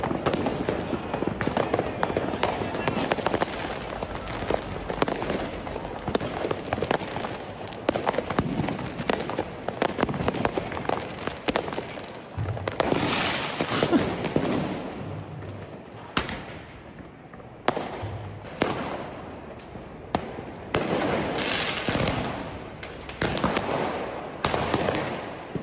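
Fireworks and firecrackers go off on New Year's Eve on the streets of Berlin in a dense barrage of sharp bangs and crackles, some near and some far, loud and continuous.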